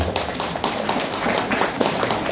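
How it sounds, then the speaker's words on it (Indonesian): Audience clapping at a Halal Bihalal community gathering, a loose patter of hand claps with irregular louder bursts, close and lively. "Tepuk tangan untuk Parmindo"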